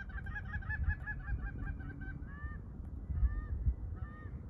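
Wild geese honk over a Nebraska field, a scattered run of nasal calls with a few louder ones later, heard at moderate distance over a low outdoor rumble.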